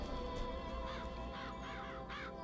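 Crows caw in the video game Bioshock Infinite, four hoarse calls spaced roughly evenly over a steady, humming ambient background, moderately close, with no talk.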